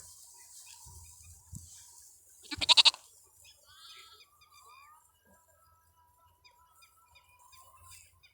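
A sheep or lamb gives one short, loud bleat close by in a mostly quiet setting, with faint farm noises and soft background sounds around it.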